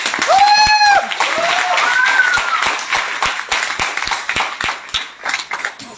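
An audience at a direct-selling business event claps, with sharp scattered hand claps building into applause while a voice carries on over a loud hall.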